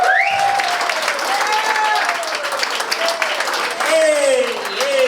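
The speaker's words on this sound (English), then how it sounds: "Give me a round of applause for Mr. Jason Scoop." Audience applause at a comedy show, steady clapping and cheering filling the room, with a voice talking over it throughout and a fresh swell near the end.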